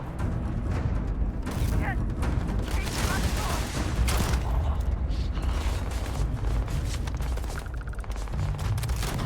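Shotgun fire in the video game Starfield, dense overlapping bursts of gunfire and mechanical clatter running continuously and loudly throughout, with a voice faintly under the action.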